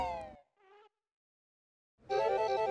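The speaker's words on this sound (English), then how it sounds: "The bees are hard at work making honey and making sure the flowers grow each spring." Spring bees buzz in a cartoon with bright, whining bursts: a longer buzz, a short wavering one, a pause of silence, then a loud buzz returning.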